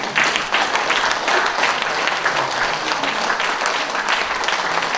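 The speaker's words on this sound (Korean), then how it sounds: "우리 큰 박수로 한번 해주십시오." An audience at a founding anniversary ceremony for a history and culture institute claps loudly and steadily, sustained applause filling the room without any talk.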